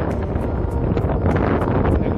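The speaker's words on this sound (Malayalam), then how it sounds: "ശക്തമായ കാറ്റും തണുപ്പും ഫീൽ ചെയ്യുന്നു." Strong, cold wind blusters steadily and loudly across the microphone on the high road to Pangong lake in Ladakh, a constant roaring buffet with no pauses.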